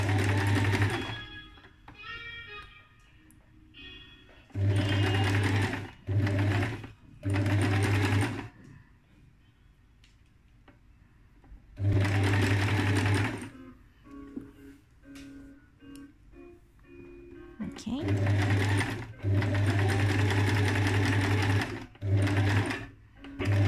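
A sewing machine stitches pleats in fabric, running in loud, close bursts of rapid needle chatter that stop and start with quiet gaps in between.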